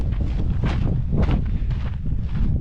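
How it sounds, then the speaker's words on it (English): Gusty wind buffets the microphone in loud, low rumbling bursts that rise and fall throughout, with no talking, outdoors at a shooting range. "it's a little windy."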